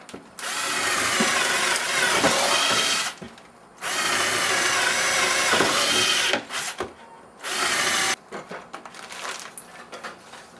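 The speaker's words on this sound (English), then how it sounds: "we're going to take our drill bit, run around the inside." A power drill whines loudly in long bursts, stopping briefly between runs, with the grinding rasp of a bit cutting around the inside of a vent hood opening.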